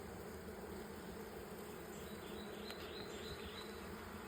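Dense, continuous buzzing of many bees at a hive, a steady droning swarm at fairly close range with no voices.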